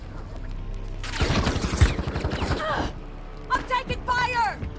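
Video game gunfire on a battle royale island, a burst of loud rapid shots and booms that fades to scattered later sounds.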